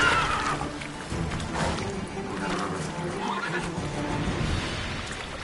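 Roach, a horse in The Witcher 3, neighs and whinnies amid game ambience, moderately loud over steady background sound with a voice.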